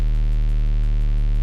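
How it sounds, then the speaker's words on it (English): A sub-bass sine wave synth patch built in Serum drones as one loud, steady, pure low tone with stacked even harmonics, held unchanging for over a second before cutting off abruptly, with nothing else heard. "this is actually a really simple bass which sounds absolutely disgusting and layers underneath perfectly"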